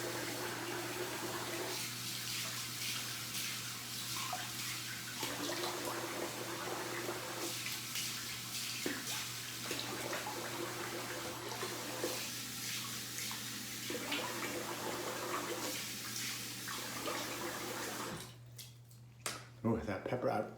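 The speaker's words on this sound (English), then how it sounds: "So I'm gonna rinse the face here." Cold water from a running tap splashes steadily at a bathroom sink as the face is rinsed after a shave with a single-edge razor, with a faint hum under it and a clatter at the end.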